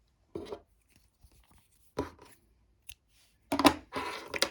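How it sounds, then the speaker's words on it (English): Scissors snip through crochet yarn in a few short, close, dry cuts separated by quiet pauses, with a quick burst of snipping near the end. "And now we're going to cut our yarn."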